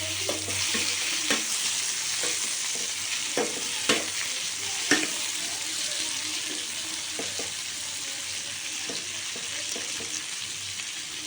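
Tomatoes and four garlic cloves frying slowly in a pan for chutney, a steady hiss of sizzling oil with occasional soft knocks and stirring sounds, no speech.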